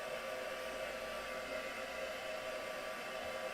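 Heat tool blowing steadily to dry a craft product at a Christmas craft demo, a constant even whoosh of air held throughout, close and moderately loud with no talk.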